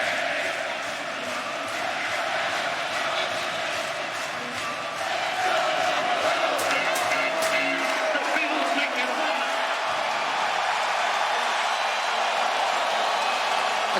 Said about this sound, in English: I'll let you enjoy the crowd.